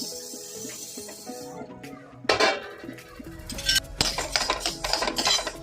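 Fenugreek seeds roasting in a pan for methi laddoo, stirred with a utensil: light clinks and scraping, then bursts of rattling, crackling seeds near the microphone.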